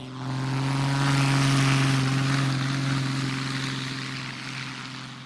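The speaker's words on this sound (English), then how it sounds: "The twin turbos kick in about halfway through his takeoff roll." A twin-turbo propeller aircraft taking off at an airshow, its engine a loud steady droning roar with strong low tones that swells up quickly and then slowly fades as it moves away.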